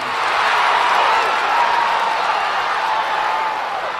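Steady video game crowd roar at an opening-day race in Cars Mater-National Championship, with scattered clapping and cheering, dense and continuous throughout, sounding like a large stadium audience.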